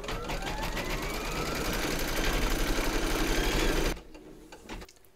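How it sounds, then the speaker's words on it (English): An embroidery machine stitches a round on hooped fabric, a rapid steady mechanical chatter with a rising whine that runs continuously for about four seconds, then cuts off abruptly to near quiet. "Pop your hoop into your machine and stitch round number 3 to secure it."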